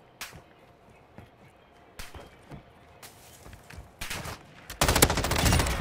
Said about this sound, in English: Yo, bro, stop shooting me, dude.